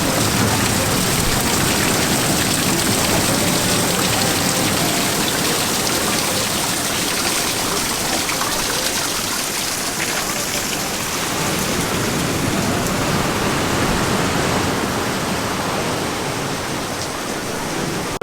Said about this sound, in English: And then look, another waterfall.